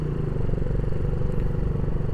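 A motorcycle of the kind nicknamed a "motor jamet" is being ridden, and its engine makes a steady, loud, close drone with a rough low rumble and mechanical clatter throughout, with no voices.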